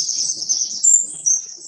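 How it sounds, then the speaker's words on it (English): Birds in a played audio recording chirp and tweet in high, thin bursts, a few clear calls rising above faint background murmur, fairly close and moderately loud. "Got a lot of birds right now."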